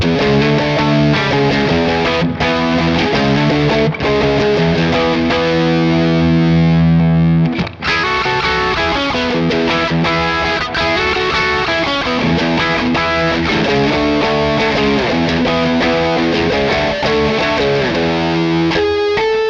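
Electric guitar through a Revv Tilt overdrive pedal on its tight setting, playing a continuous riff with chords and single notes, gritty and loud, with a brief pause midway before picking back up.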